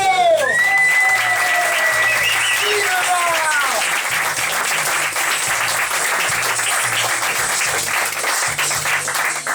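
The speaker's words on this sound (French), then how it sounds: "Applaudissements." Dense applause from a comedy show audience opens with whoops and shouted cheers, then settles into loud, sustained clapping that runs without a break to the end.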